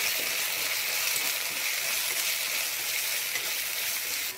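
Chana masala spices sizzle and fry in a pan on raised heat while being stirred, a steady, close, hissing crackle that holds throughout with no speech.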